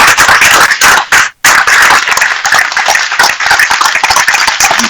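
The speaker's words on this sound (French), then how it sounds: "Je vais simplement demander qu'on l'applaudisse au maximum." A crowd at a political gathering applauds a deceased worker, loud, close, vigorous clapping with a brief gap before resuming at full strength.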